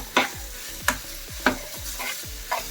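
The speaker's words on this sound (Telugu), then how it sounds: "ఇప్పుడు ఇదంతా కలిపి ఇలాగా వేయించుకుందాం కొద్దిగా" Sweet potato pickle mixture being stirred and fried in a pan: a spoon scrapes through it in regular strokes about every half second over a low sizzle, with no voices.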